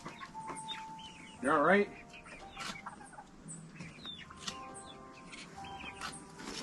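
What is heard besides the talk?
chickens clucking on a homestead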